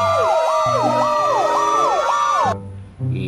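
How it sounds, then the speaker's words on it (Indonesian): A toy fire truck siren wails in a repeating electronic up-and-down pattern, loud and close, then cuts off abruptly before a brief tone resumes. "di sini ada mobil pemadam kebakaran"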